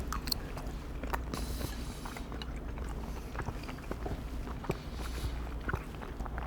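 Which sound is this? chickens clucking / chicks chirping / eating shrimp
eating shrimp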